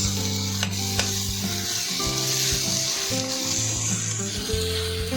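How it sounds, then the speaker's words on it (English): Chopped tomatoes fry in oil with browned onions for chana masala, making a loud, steady sizzle with stirring clatter and tonal hum throughout, close up. "When the chopped onion turns brown, you can add now chopped tomatoes and cook for about 10 minutes"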